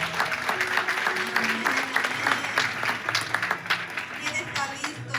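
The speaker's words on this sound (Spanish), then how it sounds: "Un fuerte aplauso." A church congregation applauds steadily, a dense wash of many hands clapping throughout, with voices mixed in beneath the applause.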